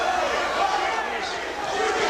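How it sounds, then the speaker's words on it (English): A boxing crowd at the Pernell Whitaker vs Wilfredo Rivera fight keeps up a dense, steady roar of chanting and cheering for Whitaker, with a commentator's voice running over it throughout. "Whitaker fans in the crowd chanting Heat, Heat, Heat"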